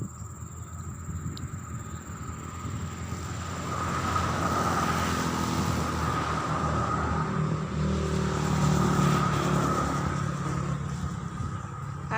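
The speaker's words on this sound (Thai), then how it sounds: "รถมาก็จะเสียงดังหน่อย" Traffic noise swells as a car approaches and passes nearby, a broad rumbling whoosh that peaks midway and lingers, with steady background hum throughout.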